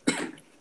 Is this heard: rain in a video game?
no